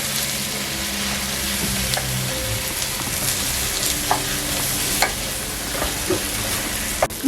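Rice being stirred in a pan to make yellow rice: a steady close sizzle with scraping, clattering stir strokes and a few sharper knocks of the spoon against the pan, no talking.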